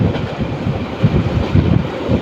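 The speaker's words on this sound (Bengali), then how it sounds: "মোবাইল রেল স্টেশনে ট্রেনটি যাত্রা বিরতি না দিয়ে" A small Bangladeshi Surma Mail local train runs through a station without stopping: a steady, loud rolling rumble with faint wheel rattle and wind buffeting throughout, and no voices.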